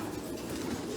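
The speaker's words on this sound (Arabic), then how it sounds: "هذا الطير جميل يا شباب للامانه يدرس كثير جميل" A pigeon cooing up close in a breeding loft, a low continuous murmuring coo over a steady background hum for about a second, with no talk.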